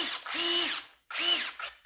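A Parkside PMBSA cordless drill gives two short, close whirring bursts, a longer one and then a brief one. Each burst spins up and winds down, with a gap between them.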